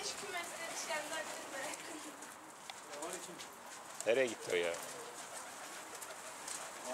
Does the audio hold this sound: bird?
yes